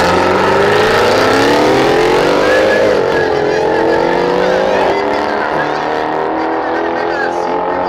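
A Mercedes C63 at a street drag race, its engine revving hard and climbing through the gears, very loud and close, a steady roar with rising pitch that eases off near the end while people talk over it.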